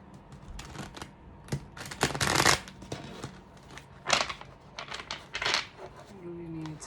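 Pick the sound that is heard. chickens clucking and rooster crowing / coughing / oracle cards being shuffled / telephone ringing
oracle cards being shuffled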